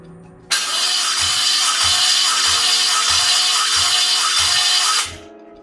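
A Toyota 2JZ engine cranks on the starter during a compression test, a loud continuous whirring run with about six rhythmic compression pulses lasting several seconds, then abruptly stopping.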